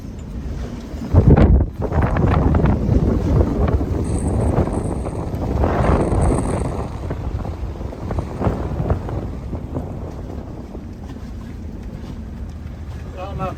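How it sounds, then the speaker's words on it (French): Strong 34-knot wind roars over a boat riding at anchor, a loud, continuous gusty rush with heavy microphone buffeting and a brief louder blast early on. "On a 34 nœuds de vent"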